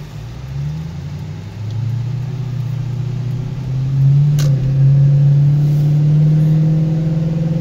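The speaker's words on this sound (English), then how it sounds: "Exhaust sounds good. I mean, it's pretty throaty." A deep, throaty aftermarket car exhaust rumbles steadily up close, then swells louder as the engine revs partway through and holds a heavier drone.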